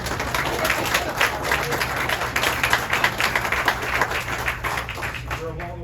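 An audience at a past presidents and awards day event applauds a speaker taking the stage, a steady, moderately loud patter of many hands that tapers near the end.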